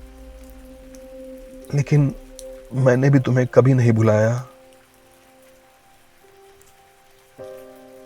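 Steady rain falls as a soft, continuous background wash beneath a woman's brief emotional spoken lines.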